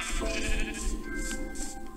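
Minecraft sheep bleating in a steady, wavering cry that runs for about two seconds, with faint game sounds underneath.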